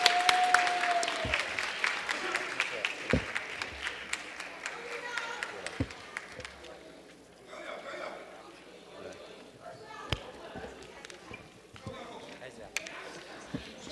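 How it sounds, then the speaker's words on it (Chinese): Warm applause fills the chamber at the New Taipei City Council inaugural session after the council speaker's election, a sustained patter of many hands with scattered louder claps that fades gradually, with voices under it. "热烈掌声"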